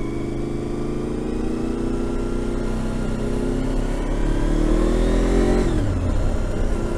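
A motorcycle fitted with a race exhaust can revs and accelerates steadily for several seconds, its engine note rising and then dropping sharply near the end, loud and close with no talking.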